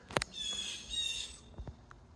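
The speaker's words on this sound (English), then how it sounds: "It's talking in owl talk. I think it's a baby. It's like chirping." A young owl calling from somewhere in trees, giving a few short harsh chirping squawks spread over about two seconds, faint and at a distance, with quiet outdoor background and no one talking.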